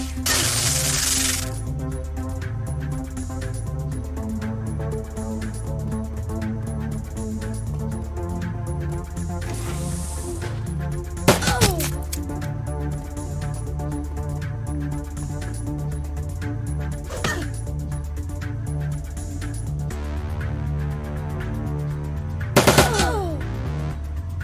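Turrets fire machine guns in Shadowrun: Dragonfall, a sustained rattling stream of rapid shots running for over twenty seconds beneath game music, with a few sharper bursts standing out.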